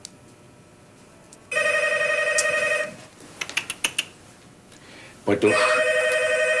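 An old-style telephone bell rings loudly in a room, a sustained ring that stops, followed by a few clicks and a short spoken phrase, then rings again.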